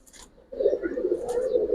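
A female Giribaz high flyer pigeon gives a brief, soft, low coo close by after a moment of near quiet.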